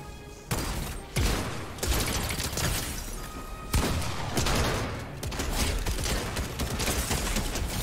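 Assault rifle fire in a video game, bursts of sharp repeated shots with a few heavy booms in a continuous busy mix of gunfire and effects, no talking.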